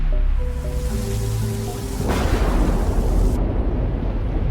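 Heavy rain falls steadily with a deep thunder rumble building underneath, then a sudden louder crack of thunder bursts in and the downpour thickens into a dense roar, close and loud.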